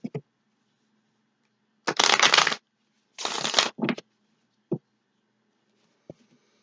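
Two bursts of riffled tarot cards shuffling, close and crisp, followed by a few soft taps and thumps of the deck being squared.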